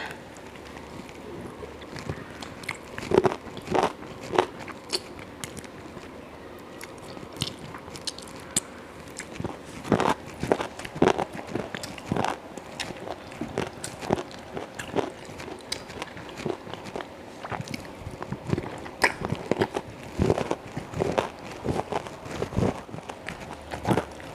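Crunchy bites and chewing of raw lalapan vegetables such as eggplant, eaten alongside oyster-sauce chicken, repeat in irregular close, crisp bursts with no talk.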